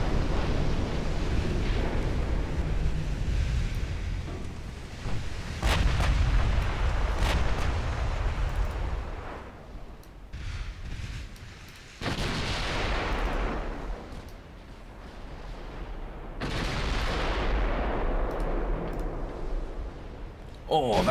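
Naval gunfire from warships in a dreadnought-era naval video game with 16-inch guns, heavy booming blasts and rumbling roar in long surges, with a voice talking over them.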